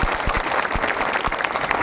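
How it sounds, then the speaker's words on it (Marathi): Crowd at a protest gathering applauding loudly, dense continuous clapping throughout with no pause. "मॅडम ताईंचं जोरात टाळ्या वाजून या ठिकाणी स्वागत करावा."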